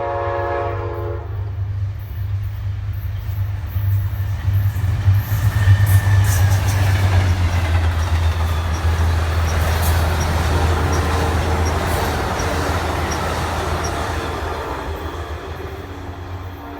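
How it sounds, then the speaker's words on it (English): An Amtrak Capital Limited train led by a B32-8WH and P32 locomotive passes close and loud, its deep engine drone and rolling rumble continuing steadily after a brief horn at the start. "The Capital Limited would be my first train of the day"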